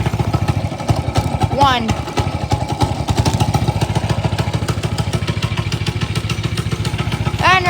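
A small Doodlebug minibike engine is pull-started and then chugs at a rough, rapid idle close by, with two pull-cord zips heard, and a voice speaks briefly near the start.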